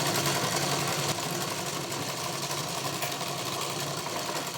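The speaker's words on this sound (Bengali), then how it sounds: "এবার মেশিন সেলাই করো" A foot-pedal sewing machine stitches fabric with a steady, continuous mechanical whir and hum that holds at an even level throughout, with no talking.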